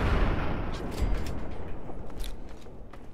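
Gunfire aimed at an Enclave Eyebot in Fallout 3, a run of loud booming shots with heavy low rumble, several bursts close together.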